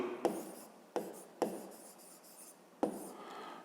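Quiet pen writing on paper at a math exercise, with four separate scratchy strokes that each begin with a sharp attack and then scrape more softly, close and alone without talk.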